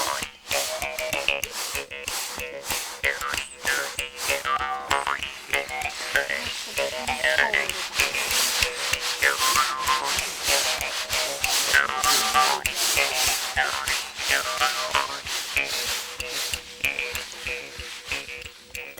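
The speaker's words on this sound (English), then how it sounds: "The sound of the kumbing links the earth, the sun, and the moon." A kumbing, the traditional mouth instrument of Lake Sebu, plays a continuous buzzing, twanging drone with rapid rhythmic pulses, close and fairly loud throughout without talk.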